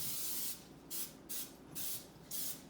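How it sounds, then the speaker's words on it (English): Cooking spray hisses from an aerosol can onto a baking pan held over a sink, in five short, evenly spaced bursts with brief quiet gaps between them. "when I spray, I try to make sure that I get it into the crevices"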